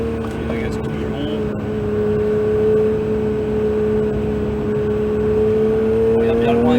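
A Porsche 911 GT3 (992) is driven at full throttle on a driving-centre track at Castellet. The engine drone is loud and steady, with its pitch climbing slowly as it pulls hard.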